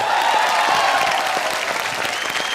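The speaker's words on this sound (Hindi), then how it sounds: "एक बार जोरदार तालियां पूरी टीम" Loud applause from a TV comedy show studio crowd, a dense wash of clapping that holds steady throughout.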